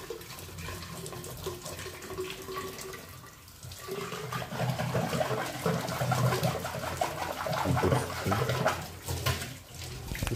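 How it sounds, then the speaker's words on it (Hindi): An RO water purifier's filter housing is rinsed under running water, with a continuous splashing and gushing stream that swells and surges close by for several seconds. "ये हाउसिंग थोड़ा धो के लेना पड़ेगा"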